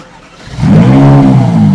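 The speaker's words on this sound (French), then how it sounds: "Les pots d'échappement font 4 bruits différents." Ferrari 458 V8 at a Swiss car meet, starting up and revving hard: a quiet lead-in, then a loud, rising engine roar with strong exhaust harmonics that holds steady to the end.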